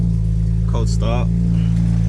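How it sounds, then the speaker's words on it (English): A BMW 335i with the N54 engine cold-starting, a loud, steady low engine drone running throughout while a voice speaks briefly over it. "Cold start."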